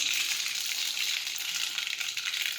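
Mustard seeds and cumin sizzle in hot oil in a pan, a close, steady, bright hiss that stays dense and unbroken throughout.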